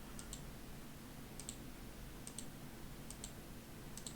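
A computer mouse clicks in quick double-clicks while someone models in 3ds Max, five crisp pairs spaced about a second apart over faint background hiss.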